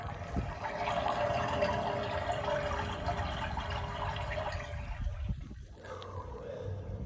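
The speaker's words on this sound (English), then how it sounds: "You can hear it draining" Water drains steadily through a main sewer line, a continuous rushing, gurgling flow that fades and thins near the end.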